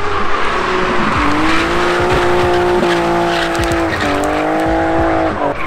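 A small car's motor whines and shifts pitch as it races around, with repeated tire squeals and skids, loud and close throughout.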